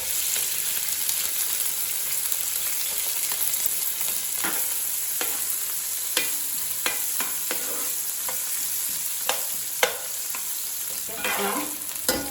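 Chopped onions dropped into very hot oil for egg fried rice, sizzling steadily and close up with a bright hiss, broken by a series of sharp scraping clicks as a spatula stirs the pan; no talking.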